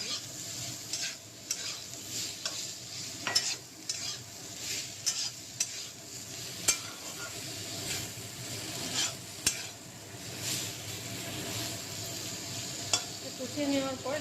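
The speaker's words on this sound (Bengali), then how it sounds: "এটাকে ভালো করে মশলাটা কষিয়ে নেওয়া হবে।" Spiced masala sautés in a pan for a Bengali pabda fish curry with potato and eggplant, a soft steady sizzle broken by repeated sharp spatula scrapes and taps against the pan.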